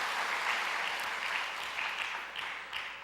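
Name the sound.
congregation applause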